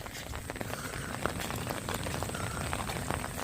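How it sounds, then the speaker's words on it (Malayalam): Dense, steady heavy rain in Ernakulam district hissing down on flooded surfaces, a constant wash of drops with faint scattered patters throughout. "ഇന്നലെ രാത്രി തുടങ്ങിയ മഴയാണ് ഇപ്പോഴും തോർന്നിട്ടില്ല ശക്തമായ മഴയാണിത്"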